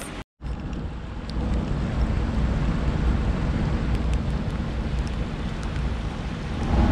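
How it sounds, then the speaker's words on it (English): Heavy rain pours down on the Erie Canal in a dense, continuous hiss, with gusty rumbling underneath and occasional faint taps, after a brief dropout at the start. "It's really raining hard, but it's actually really beautiful."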